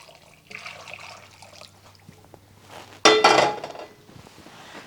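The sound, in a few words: boiling water poured into bowl of strawberry jello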